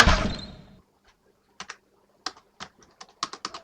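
Keys on a computer keyboard are pressed in scattered, uneven bursts of crisp clicks after a brief wash of noise fades out, close and with no voices.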